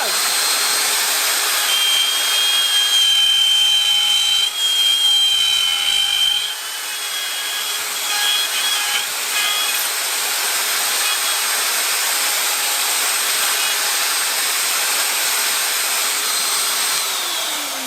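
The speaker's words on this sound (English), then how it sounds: "we're going to turn the router on" A turbo router running at full speed to cut a recess for a French hinge, a loud steady high-pitched whine that holds for most of the stretch, with a few brief changes in load, before winding down at the end.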